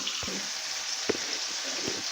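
Oil sizzles steadily as vegetables fry for fish-head chhechra, with a few soft clinks and taps from the pan breaking through the hiss.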